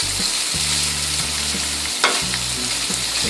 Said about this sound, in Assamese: প্ৰথমতে মই এখন পেনত ৰিফাইন অকণমান দি পনীৰখিনি অলপ ভাজি লওঁ